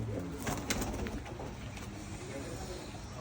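Low, soft cooing from Australian pigeons, kept by a pigeon fancier in Australia, mixed with scattered bird calls and a busy background murmur, steady throughout.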